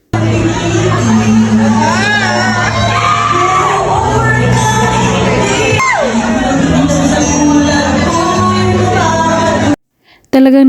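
A concert crowd screams and cheers loudly for a pair of performers on stage, sustained shouts and whoops over the music from start to finish, cutting off abruptly near the end.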